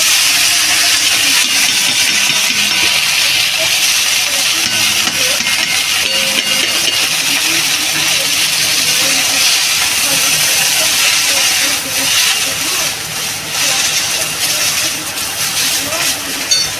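Garlic cloves and washed mustard flowers hit hot oil and sizzle with a loud, steady, broadband hiss that continues throughout, easing slightly near the end.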